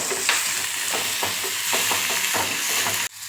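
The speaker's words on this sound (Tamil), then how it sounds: "இந்த கருவேப்பிலை பாருங்கள் இப்படி வதக்கிறது நம்ம வீடியோவில் காட்டுவோம்" Curry leaves saute in hot oil for a dry fish gravy, a bright steady sizzle with repeated spatula scrapes and stirs close by, cutting off abruptly at the end.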